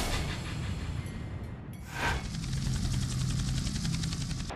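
A struggling television helicopter hovers over the crowd at the Sydney marathon, its rotor chop and engine roar steady and fairly distant, with a brief whoosh partway through.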